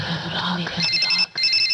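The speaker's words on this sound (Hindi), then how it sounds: "मोबाइल का घंटी बज रहा है।" A mobile phone ringing indoors during a stage play, a steady electronic ring tone repeating in short bursts with a brief gap, loud and near over background room noise.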